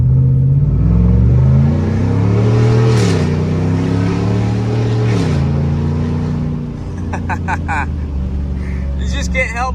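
A Chevrolet Silverado with a 6.2 engine and a cat-back straight pipe exhaust revs loud and close, its deep drone rising and falling through two big pulls before dropping back, with a voice briefly over it.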